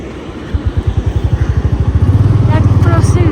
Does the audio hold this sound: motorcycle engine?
yes